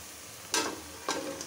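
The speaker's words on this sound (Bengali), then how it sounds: "মাংসটা এখন কষাবো।" Chicken pieces sautéed with spice masala in a pan, two short bursts of sizzling and stirring scrapes over a low, steady frying hiss.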